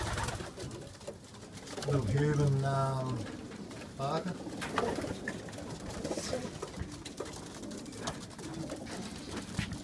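Racing pigeons coo nearby in soft, rolling phrases, with a loud burst early on and quieter calls after, while a person talks over them.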